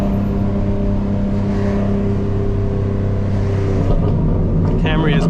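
A 2025 BMW M4 Competition drones steadily from inside the cabin while driving, a close, even engine hum that shifts pitch near the end, with a brief voice at the close.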